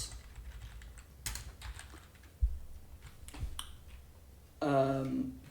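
Keystrokes on a computer keyboard while entering Python code, heard as sparse clicks and short bursts of taps near the mic. A voice comes in near the end.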